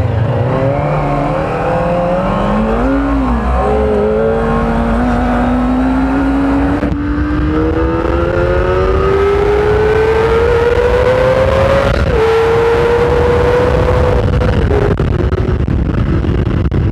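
A car accelerating hard in a pull test, its engine note climbing steadily in pitch with brief dips at gear changes, loud and close throughout.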